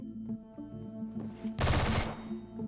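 A short, loud burst of rapid gunfire in the Roblox shooter Phantom Forces cuts in over steady game music, lasting about half a second before fading back.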